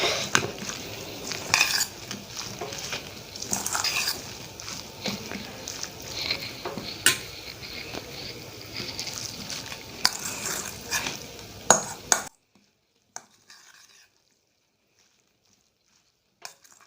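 Kaleji (goat liver) frying on a tawa while being stirred and mixed, with repeated scraping and clinking of a utensil over a soft sizzle, fairly close, before the sound cuts off into near silence.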